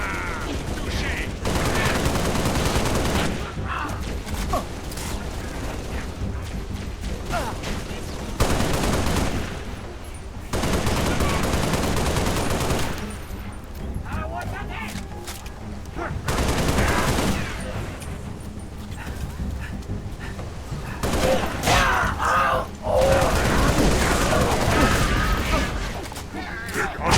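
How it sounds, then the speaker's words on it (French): Enemy gunfire in the video game Halo Reach rattles in dense, loud bursts of rapid shots with booming impacts. Firing continues almost without pause for nearly half a minute, with speech mixed in. "L'ennemi me tire dessus."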